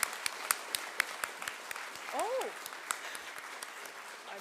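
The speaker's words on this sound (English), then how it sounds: "It's time to applaud." Sparse applause from a civic audience at a city address, a few distinct claps spaced out with a short spoken interjection partway through; moderately quiet and thin rather than a full ovation.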